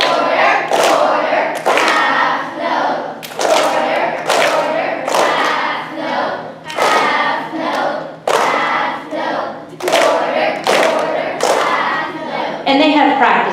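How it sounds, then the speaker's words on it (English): Students with recorders around their necks clap a rhythm in unison while reading a piece of music, sharp group claps in irregular bursts across the clip, loud and close, with children's voices mixed in. "We're going to clap and read this for everybody."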